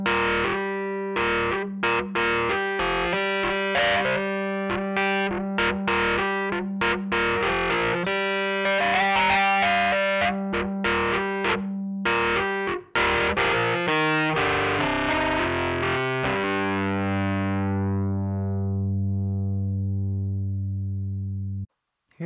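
A Korg SV-1 electric piano played through a distorted JCM amp, gritty overdriven chords and runs that end on a long sustained chord fading out.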